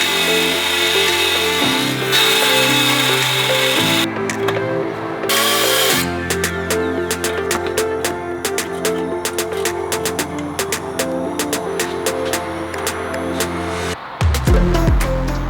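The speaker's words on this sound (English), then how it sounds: "let's do a little bit of cutting." Power tool cutting metal during an electric steering rack conversion on a Subaru WRX STI with an EG33 swap, heard as a loud continuous grinding whine with rapid chattering bursts, close by, with a brief pause before it resumes.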